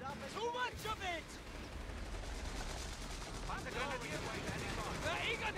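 Small arms fire rattles continuously in the Company of Heroes 3 video game during a 3v3 Afrika Korps battle, under shouted in-game voice callouts.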